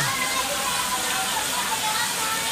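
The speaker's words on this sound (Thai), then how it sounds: "นั่งอยู่ริมน้ำตก แล้วมีปลาด้วยนะครับ" Steady rushing water of a small waterfall at a carp cafe with a filtered fish pond, a continuous broadband splash close by with no break.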